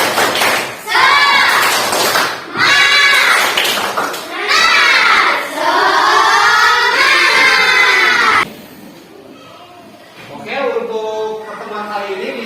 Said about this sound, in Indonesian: Kita melakukan tepuk semangat dulu.